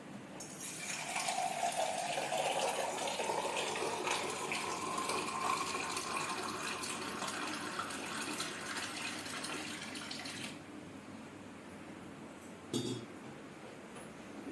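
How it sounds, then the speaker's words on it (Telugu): Water gushes steadily into a pot of moong dal for about ten seconds, a loud continuous pouring close by, and then cuts off, leaving a faint background hush and a brief clink. "పెసరపప్పు కరెక్ట్గా రెండు గ్లాసులు వాటర్ పోసేస్తే దీనికి సరిపోతుంది"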